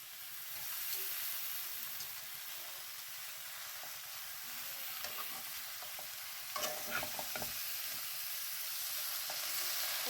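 Malabar spinach (pui shak) frying in a pan gives a steady, quiet sizzle and hiss, with soft scraping stirs scattered throughout and a brief burst of louder stirring late on.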